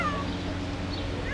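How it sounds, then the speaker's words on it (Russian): A frightened cat cries at a street shelter in Kutaisi, Georgia, giving two faint, high, drawn-out wails, one near the start and one near the end, over a steady low murmur of background noise. "Вон она плачет, кошка."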